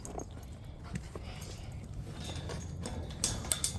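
A dog whimpers and vocalizes in short, faint bursts during a calming session after meeting a new dog, with light jingling and soft rustling in the background.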